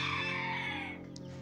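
A Sultan chicken, the ornamental Serai Tavuk breed, gives a single drawn-out, loud, close call that fades toward the end, heard alone without any talking.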